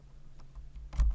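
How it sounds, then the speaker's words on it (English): Keys tap lightly on a computer keyboard, ending with a firmer press of the enter key, close and fairly quiet. "all I have to do is press the enter key to insert it"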